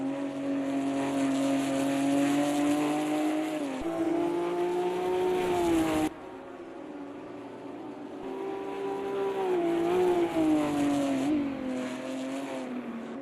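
GT4 race cars in the Automobilista 2 racing game on a high-speed track, engines droning loudly and steadily with rising and falling pitch through gear changes, one dominant car with others nearby, no talk.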